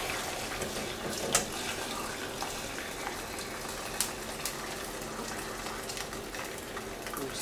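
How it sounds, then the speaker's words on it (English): Chicken stock pouring and trickling through a fine sieve, a continuous wet splashing stream with a few sharp clinks of metal, at moderate level with no talking. "I'm going to strain off some of this stock through a fine sieve."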